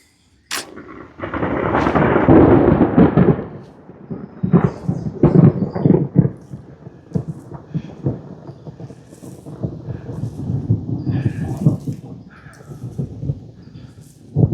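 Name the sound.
thunder from a storm rolling in on a hiking trail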